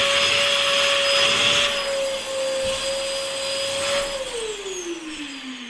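A repaired vacuum cleaner runs with a steady whine and airy roar close by, its pitch holding level and then sliding downward near the end as the motor slows.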